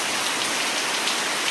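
Heavy rain pours down outside, a dense, even roar of drops striking surfaces, loud and unbroken throughout with no voices.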